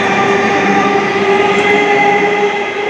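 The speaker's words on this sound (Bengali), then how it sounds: "ট্রেন ছেড়ে দিল" A Sonarpur local train pulls out of a station on a Sunday morning. It makes a loud, continuous rumble and whine with steady tonal hum from the carriages, close and unbroken, with no talk.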